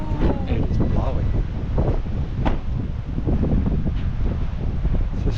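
Strong wind gusts sweep a stretch of the Cape Melville coast in Cape York, roaring loudly and continuously into the microphone with rumbling buffets throughout.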